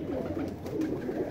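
Green Neck home breed pigeons cooing in a loft, a low soft continuous murmur of coos held close and steady for a moment, with no voices over it.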